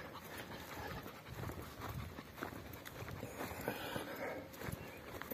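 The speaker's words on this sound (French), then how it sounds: "Le chien, je crois qu'il suit la chienne." Dog panting and moving about on a mountain trail on La Rhune in the Basque Country, with soft footsteps and breathing sounds that stay close and steady, with no talk.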